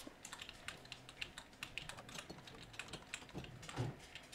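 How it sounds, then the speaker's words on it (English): Close, quiet computer keyboard typing and mouse clicks come from a desk during a Minecraft session, rapid irregular keystrokes with occasional sharper clicks and no talk over them. "if you guys hear my keyboard and mouse"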